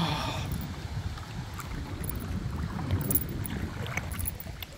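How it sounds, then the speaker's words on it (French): Strong wind buffets the microphone with a steady low roar throughout, and faint water sounds lie beneath it. "il y a tellement de vent en fait en ce moment"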